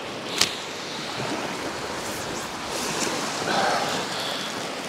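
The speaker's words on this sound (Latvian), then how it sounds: "baigie viļņi tagad sākās nes projām." Waves rolling ashore on the Baltic Sea during a bush fishing trip, a steady near wash of surf with wind noise on the microphone, swelling briefly and marked by a short sharp splash early on.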